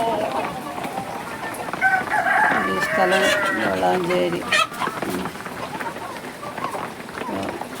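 Native country chickens kept for sale at a poultry spot in Valanchery cluck and crow loudly nearby, a rooster's crow ringing out midway among scattered clucks, while someone talks over them.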